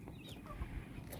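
Chickens foraging on a farm after eating feed, with a few soft clucks and calls faint over a low background murmur, in a short stretch with no talk.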